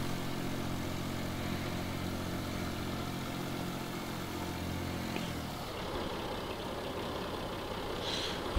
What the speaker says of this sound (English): Look at that thing rev up